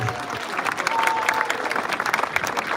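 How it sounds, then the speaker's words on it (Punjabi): Applause from a live audience at a community gathering in Winnipeg, a steady rattling wash of many hands clapping at moderate distance, with faint crowd murmur underneath and a brief whistle-like tone. "ਇੱਕ ਵਾਰੀ ਜ਼ੋਰਦਾਰ ਤਾੜੀ ਦੁਬਾਰਾ ਮਾਰੋ"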